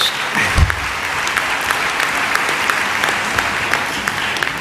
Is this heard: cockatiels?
no